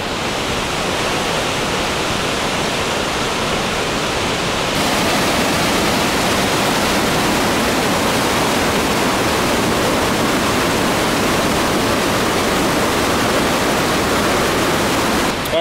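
Sahalie Falls, a waterfall in Oregon's lava-rock country, roars with a loud, unbroken broadband rush heard up close. The sound holds steady throughout and swells slightly partway through, with no voices.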